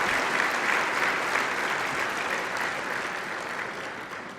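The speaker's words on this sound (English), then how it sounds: "let's give them a round of applause for that." An audience applauds steadily at a college convocation ceremony, a dense, sustained wash of clapping that fills the hall and fades slightly toward the end, with no voices over it.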